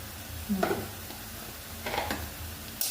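Onion-garlic masala with coriander powder being stirred and sautéed in a pan, a faint sizzle with a few soft scraping stirs.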